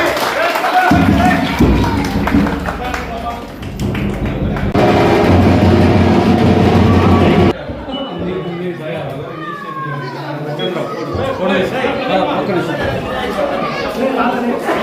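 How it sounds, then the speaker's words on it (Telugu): A crowd applauds at a ribbon-cutting ceremony opening a safe drinking-water facility in Sirivella, with loud clapping in waves while people chatter around it. "అందరూ గట్టిగా చప్పట్లు కొడదాం."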